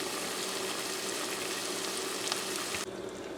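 Crab and shrimp frying in a skillet for a zucchini noodle dish, a steady close sizzle that runs evenly and then drops abruptly near the end.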